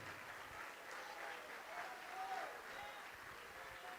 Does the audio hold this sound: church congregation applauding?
yes